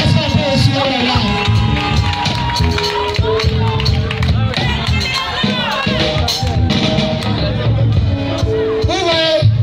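Wedding guests at a pastoral couple's wedding in Koumassi cheer, shout and acclaim loudly, a dense continuous crowd roar with whoops and voices throughout.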